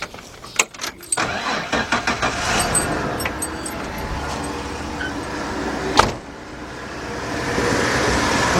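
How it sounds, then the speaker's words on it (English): A 1977 Buick LeSabre 350 engine cranks to build oil pressure after a gasket overhaul, a rapid, rhythmic churning, then a rough mechanical whir; no one speaks. "crank it up, get some oil up into that engine before I actually go to start it"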